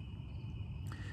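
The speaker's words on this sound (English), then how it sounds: "how lovely that this once every 17 year blossoming of the cicada population." Periodical cicadas of a 17-year brood drone in a steady, faint buzz that fills the background throughout, with a brief brighter rise near the end.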